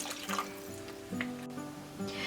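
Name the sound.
half cup of water added to masala for biryani gravy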